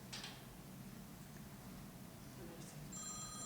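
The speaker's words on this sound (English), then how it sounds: "Oh, why is that ringing?" A telephone rings in a council meeting chamber, its electronic ring tone cutting in near the end over a low hum of room noise and faint murmuring.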